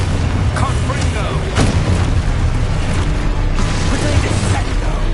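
A Confringo spell blasts in Hogwarts Legacy, a loud, dense rumbling boom that sustains with mechanical crackle, its impact blending into continuous game combat noise and effects.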